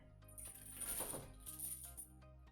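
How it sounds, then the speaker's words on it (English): Paint-covered metal chain pressed onto paper for art-making, giving a short sequence of light metallic clinks and rattles, close and fairly quiet, in two brief bursts. "So there's a lot of paint on my chain."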